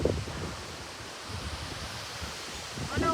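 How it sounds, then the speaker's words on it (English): Strong gusting wind roaring across the microphone outdoors, a steady broadband rush with louder swells at the start and end, with people talking faintly underneath. "Wind everywhere. Yeah, we got wind."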